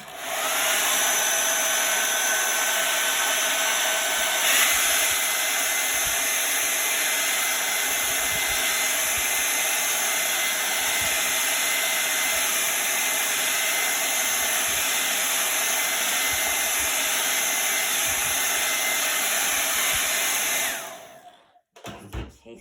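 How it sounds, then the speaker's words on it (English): A hair dryer blows steadily for about twenty seconds on a chalk craft project, a loud continuous whooshing roar with a high whine, then switches off and winds down. "let me blow dry this so I don't touch the white"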